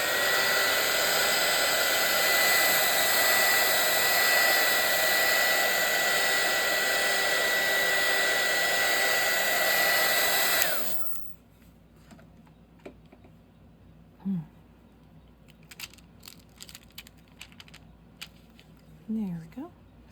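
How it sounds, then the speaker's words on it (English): A hair dryer roars loudly and steadily for about ten seconds, drying paint on a bookmark, then cuts off, leaving quiet handling rustles and small clicks. "blow dry it again"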